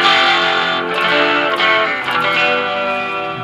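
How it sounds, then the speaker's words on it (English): A Gallien-Krueger 250ML bass amp sounds with its built-in echo and chorus effects engaged, giving a loud, dense, sustained distorted tone with a shimmering, washy texture and no speech. "This thing also has a built-in echo chamber. And a chorus."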